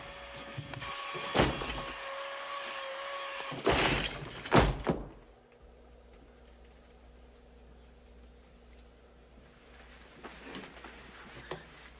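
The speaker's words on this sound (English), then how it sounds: "You either open up this door or I'm gonna break it down." A door being forced and broken down, with a few heavy thuds and a loud crashing impact cluster in the first five seconds, then a low steady hum with faint scattered knocks.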